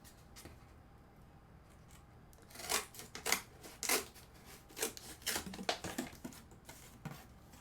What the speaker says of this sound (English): It's kind of hard to cut a straight line with scissors